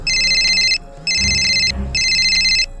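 A phone rings in three long electronic bursts with short gaps, loud and close, over a low background murmur.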